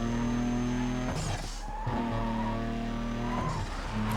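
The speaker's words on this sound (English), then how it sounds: "I do also quite like the sound of that turbocharger when I let go of the throttle" A turbocharged car in the video game Need for Speed: Carbon races along a canyon road, its engine droning steadily and loudly, broken twice by bursts of hissing turbo blow-off and tire squeal as the throttle lifts.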